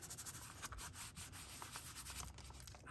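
A fingertip rubs steadily across the back of a sticker, producing a continuous soft scratchy sanding sound up close, with no talking.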